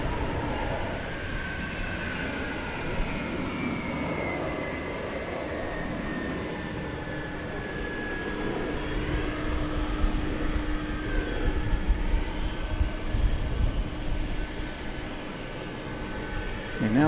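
Steady roar and whine of an airplane engine at DFW Airport, heard from a plane-spotting spot near the runway and slowly growing louder over about seventeen seconds, with faint background noise.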